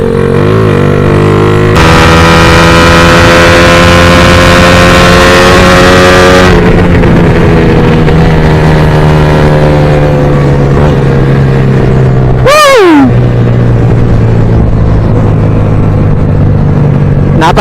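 A Suzuki Raider 150 motorcycle fitted with a BRT racing coil, cruising in sixth gear with a loud, sustained engine drone that holds steady then slowly drops in pitch, broken by a brief whooshing rush near the end.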